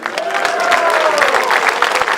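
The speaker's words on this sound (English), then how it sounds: "how about a big round of applause for Alf Hagen?" Applause from a crowd at a grasstrack motorcycle racing meeting, steady clapping with a murmur of voices mixed in.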